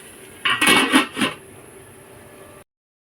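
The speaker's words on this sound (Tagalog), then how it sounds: "Lagyan muna natin ng takip para tuluyan na siyang maluto." A lid set onto a cooking pot of sautéed Baguio beans, a single bright metallic clatter with a few quick rattles as it settles, close and alone, fading into quiet room tone.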